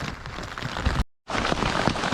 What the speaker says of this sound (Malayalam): കനത്ത മഴയാണ്